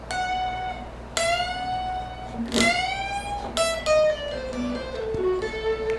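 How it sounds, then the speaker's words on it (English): Electric guitar playing lead, single notes bent a full step and slightly past, several sustained bent notes with vibrato, close and clear with no talking. "A full bend would sound like this."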